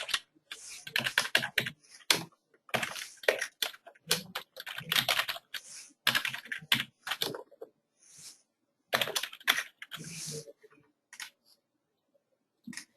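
Rapid, close typing on a computer keyboard in irregular bursts of keystrokes with short pauses, crisp and clear in a quiet room.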